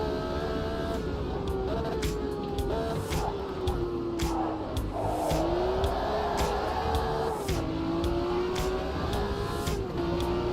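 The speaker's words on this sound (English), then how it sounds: "Peter Smith, these cars sound so good" Race car engine in a racing video game, a one-make series car, holding a sustained high revving drone that rises and dips with gear changes, loud and continuous with sharp clicks over the top.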